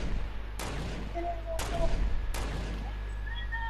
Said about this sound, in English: Shooting at him so I can kill him.